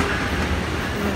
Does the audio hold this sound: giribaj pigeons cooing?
no